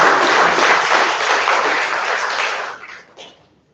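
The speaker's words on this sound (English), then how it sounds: "A huge round of applause." Audience applause for Best Paper Awards at a valedictory ceremony, a dense broadband wash of many hands clapping loudly, holding steady before tapering off and fading out near the end, with no voices over it.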